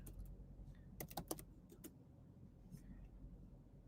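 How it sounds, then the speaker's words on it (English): Typing on a computer keyboard: a short, quick burst of close, sharp key clicks, then a few scattered taps trailing off over a low steady background hum, with no talking. "let me type it in here again"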